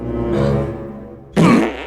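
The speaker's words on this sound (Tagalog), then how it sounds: "umutot ka man" A loud, drawn-out fart rumbles with a buzzing tone, then ends in a sudden harsher, sputtering burst.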